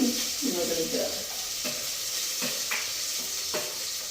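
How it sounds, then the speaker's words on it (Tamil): Tomato, onion and garlic fry in a hot pan with a continuous close sizzle, punctuated by the scrape and clatter of a spoon stirring. "தக்காளி பழம் வெங்காயம் பச்சை உள்ளி எல்லாத்தையும் போடுவோம் இப்போ வந்து நல்லா நல்லா சூடாகும்"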